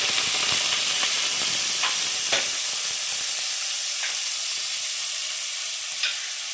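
Carrots fry in oil in a pan for white sauce pasta, giving a steady, close sizzle with a few sharper crackles and stirring scrapes, no voices.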